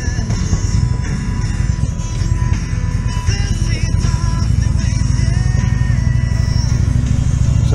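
A motorcycle rides along at a training class, its engine a continuous low rumble with wind noise, steady and close throughout without clear revving.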